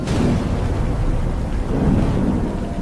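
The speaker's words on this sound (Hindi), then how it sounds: "बरसात का मौसम शुरू हो चुका था। लगातार 3 दिनों से तेज बारिश हो रही थी।" Heavy rain pours down steadily during a monsoon storm while deep thunder rumbles throughout, loud and dense with no gaps.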